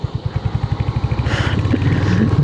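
A motorcycle ridden along a mountain road in Uttarakhand, its engine thumping in a rapid, steady pulse that rises into a smoother, louder drone, close and with no talking.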